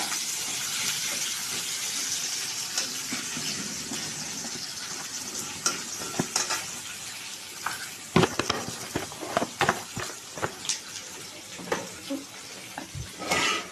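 Onions sizzle and fry in a pan in an Odia home kitchen, a steady hiss through the first half, then broken by sharp clatters and scrapes of stirring that grow louder and more frequent toward the end.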